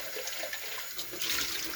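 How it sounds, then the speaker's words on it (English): Tap water runs in a steady splashing stream as a container is rinsed at the sink, close and fairly loud with no talking. "I want to give this a good rinse."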